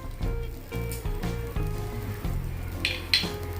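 Dried red chillies, grated ginger and curry leaves fry in oil with a soft sizzle and light stirring, a low steady hum running underneath.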